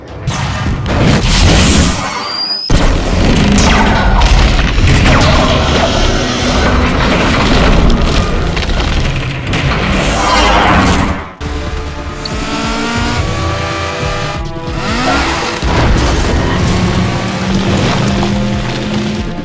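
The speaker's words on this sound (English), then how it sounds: "Finally, the bridge is destroyed." A bridge being destroyed by an explosion in a Transformers movie, with dense, loud booming and crashing rumble that continues for nearly twenty seconds, broken by a few brief pauses.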